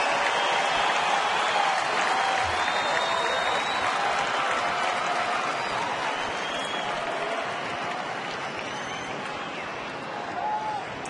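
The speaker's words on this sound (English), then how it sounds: "Here comes the crowd now." A stadium crowd at a major league baseball game between the Angels and the Tigers in Detroit roars and cheers steadily with a dense, sustained wash of noise, while a broadcaster's voice carries faintly underneath.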